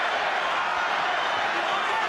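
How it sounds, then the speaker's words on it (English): A boxing arena crowd roars to fire up Juan Manuel Marquez against Floyd Mayweather Jr., a steady, dense wash of cheering that stays level throughout, with voices mixed into the din. "And listen to the crowd trying to fire him up."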